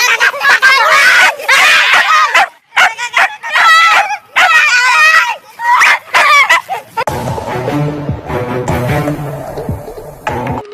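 A cartoon dog barks in a rapid run of sharp, yappy bursts with short gaps, then busy music takes over for the last few seconds.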